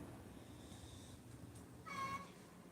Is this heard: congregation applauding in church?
no